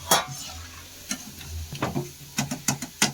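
Baby corn manchurian pieces frying in oil in a pan, with a soft sizzle broken by repeated sharp taps and scrapes of a utensil turning them, close by.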